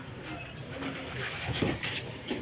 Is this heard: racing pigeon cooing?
yes